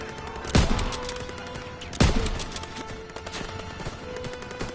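Gunfire in the World War 2 Call of Duty video game, with two sharp, loud shots about a second and a half apart over a constant battle din while a cannon position is defended.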